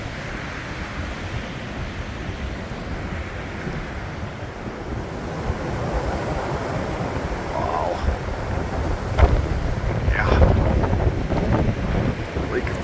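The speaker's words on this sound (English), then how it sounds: "here comes the wind" Wind rushes and buffets the microphone steadily outdoors in snow during Ford Dentside truck repair, growing stronger over time, while a person briefly exclaims partway through.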